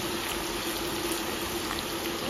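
Onions frying in hot oil with seasoning, a dense, even sizzle that holds steady and close throughout without a break.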